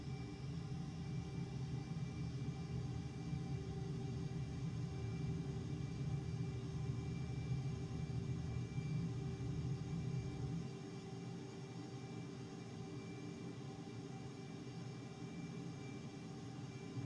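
Jet afterburner roar from a flight simulator video game: a steady, loud low rumble with broadband hiss that holds for about ten seconds, then drops to a quieter continuous engine drone.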